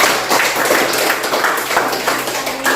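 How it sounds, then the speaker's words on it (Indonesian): Schoolchildren clapping their hands together in a classroom during an icebreaker, a dense, steady patter of many small hands kept up evenly throughout, with faint voices mixed in. "Ya, sudah tepuk tangan dulu, anak-anak."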